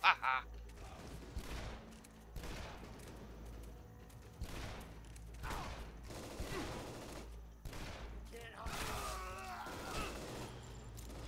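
Gunfire in the video game Shadow Warrior, with repeated bursts of shots and impacts spread across the span, a player's voice talking over the action.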